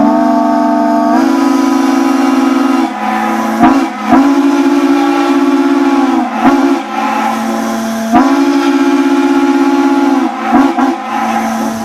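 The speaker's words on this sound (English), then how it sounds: "And then we've got our replica of this whistle, and it has a similar sound" A replica steam whistle blows loud, sustained tonal blasts with a hissy edge, cut off and restarted several times by short breaks.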